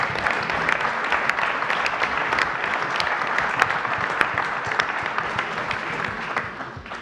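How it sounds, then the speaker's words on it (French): Council members at a community council meeting applaud a colleague, a sustained round of many hands clapping in a room, steady and fairly close, easing slightly toward the end. "Oui, on peut l'applaudir."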